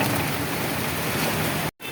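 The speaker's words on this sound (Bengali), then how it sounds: "অনেকটা জোরে নেমে গেল এখন বৃষ্টিটা।" Heavy rain pouring down outdoors during a street outing to a Ganesh puja, a dense, loud, continuous hiss that cuts off abruptly near the end.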